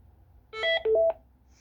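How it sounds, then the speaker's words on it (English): Message alert tone of an AT&T TL76108 phone: a short electronic two-part beep pattern with pitched tones, clear and alone against a quiet background. "here's the demonstration of the message alert time"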